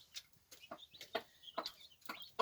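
A broody hen clucks softly beside newly introduced two-day-old chicks, with a steady run of close, low clucks and faint chick peeps between them, no talking.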